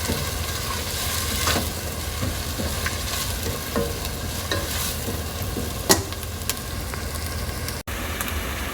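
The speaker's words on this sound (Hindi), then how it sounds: "प्याज को सौटे करेंगे।" Steady sizzle of onions sautéing in a pan for chicken makhani, with occasional stirring clinks and scrapes, continuous and fairly close, no voices.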